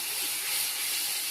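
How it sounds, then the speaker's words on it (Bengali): Rice boils in a pot on a home stove, giving off a steady, soft hiss of steam with no other sound over it. "এই যে এদিকে ভাত ফুটছে"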